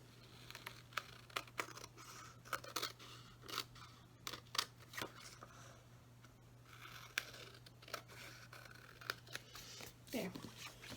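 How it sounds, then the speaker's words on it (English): Scissors snipping along the edges of a paper piece for a December Daily scrapbook page, a series of short crisp cuts spaced irregularly, close and fairly quiet over a low steady hum. "I'm just going to take my scissors. I'm just going to cut along the edges."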